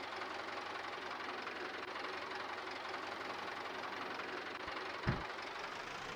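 A farm vehicle engine in Farming Simulator 22 idles with a steady, low, knocking rumble, with one brief thump near the end.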